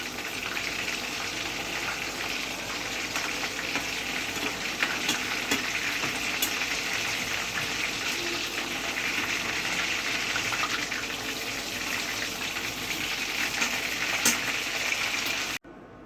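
Chicken pieces for Korean-style chicken sizzle steadily in hot oil during their second deep fry, a dense, even crackle with no one speaking.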